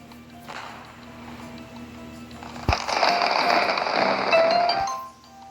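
Fireworks burst at a summer barbecue festival event in the Fate/Grand Order game, heard as a sharp pop followed by a dense, sustained crackling shower over soft background music.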